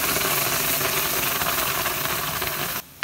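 Masala spices frying in hot oil in a karahi, a loud, dense, continuous hiss and sizzle that cuts off abruptly near the end before a brief return, with no talking.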